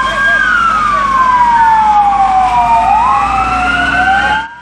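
A fire engine siren at a car fire in Kahramanmaraş wails loudly and close, its pitch sweeping down and back up, over a rumbling truck engine.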